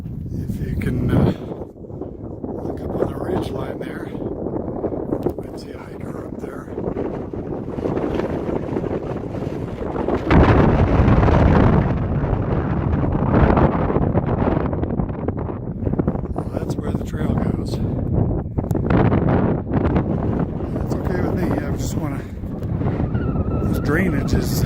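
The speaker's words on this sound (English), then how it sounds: "the wind is just coming up this drainage like crazy. It's a very, very, very cold wind." Strong, very cold wind rushes up a mountain drainage on Boundary Peak, roaring and buffeting the microphone in loud gusts that swell midway, with someone talking over it.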